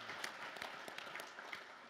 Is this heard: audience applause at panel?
yes